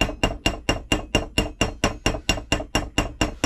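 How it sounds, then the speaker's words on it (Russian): A hammer taps an antique silver spoon while it is being straightened, giving about fifteen evenly spaced, sharp metallic strikes with bright ringing, close and loud, with no talking. "вот постучал молотком."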